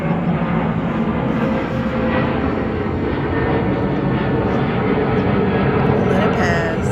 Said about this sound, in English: there's a plane going by